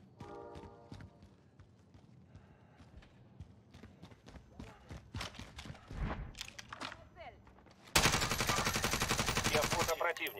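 Close, loud automatic gunfire from the video game Call of Duty: Warzone erupts near the end, following scattered footsteps and in-game movement noises, with faint talk in the background.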